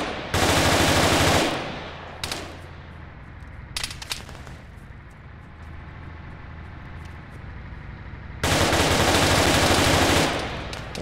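Automatic gunfire from an ARMA 3 Life Mod gang prison raid, in two loud sustained bursts at the start and near the end, with scattered single shots and a low rumbling background between them.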